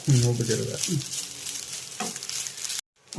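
Breadfruit curry ingredients fry in a pan, a steady close sizzle broken by scraping stirs that ends abruptly near the finish.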